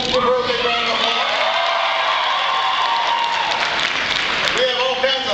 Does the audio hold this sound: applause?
yes